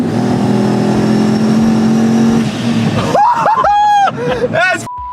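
A restored old truck with passengers inside drives along, its engine rumbling steadily under the talk and excited voices of the occupants riding in it.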